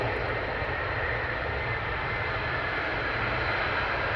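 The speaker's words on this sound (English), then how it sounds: "I have some more F-15s taxiing down now" F-15 fighter jets taxiing at RAF Lakenheath give off a steady, distant broadband engine roar that holds even throughout without a break.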